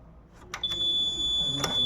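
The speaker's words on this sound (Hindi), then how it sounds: "असे मोठी बीप आवाज येईल त्यानंतर तुमची मतदान प्रक्रिया पूर्ण झाला" An electronic voting machine gives a loud, sustained beep confirming a vote, a steady tone holding after a couple of brief clicks at a polling station, close and clear.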